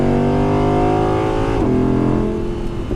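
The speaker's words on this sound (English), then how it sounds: "you can just keep driving along and just downshifting it just to let it do that." A 2017 Audi R8 engine roars loudly from inside the car, its pitch climbing and then dropping sharply as it downshifts, followed by a steady lower drone, with no talk.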